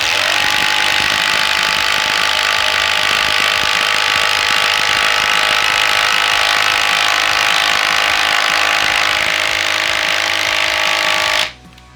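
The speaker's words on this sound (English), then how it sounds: "All right, so now we have a 5-inch by 3/8 inch lag." A Hikoki 36-volt impact driver sinks a 5-inch by 3/8-inch lag screw into wood without a pilot hole, hammering in a loud steady rattling burst for about eleven seconds before stopping abruptly.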